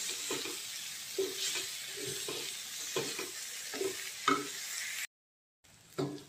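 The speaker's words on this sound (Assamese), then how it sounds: "এইখিনি দি অকণমান ফ্ৰাই কৰিম" Meat frying in a pan with onion leaves added gives a steady broadband sizzle, broken by repeated scraping stirs at a regular rhythm and a brief gap near the end; no one speaks.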